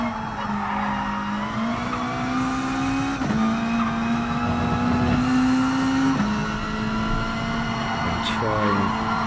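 A Subaru WRX STI races the Isle of Man course in the video game GT Sport, its engine droning steadily and rising in pitch through the gears with brief shift dips, as someone talks over it.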